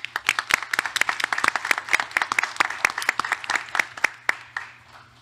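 A crowd applauds steadily for award recipients at a school district board meeting, dense overlapping hand claps that thin out toward the end, with no talking.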